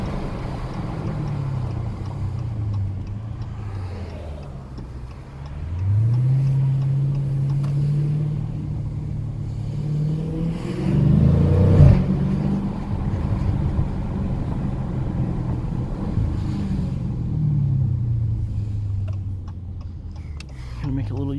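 A 2019 Dodge Challenger Scat Pack Widebody engine revs in a tunnel, rising and falling in several deep, loud pulls with a booming echo, with a person talking over parts of it.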